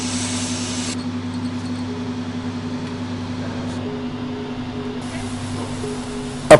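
Sandblaster propelling tiny silicone beads at 4 bars during watch bezel polishing, a steady hiss with a low machine hum beneath, with the brighter spray noise starting and stopping.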